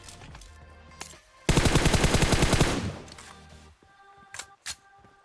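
Rapid automatic gunfire from a battle royale video game, a loud dense burst of about a second and a half followed by a couple of sharp isolated shots, with faint game ambience between.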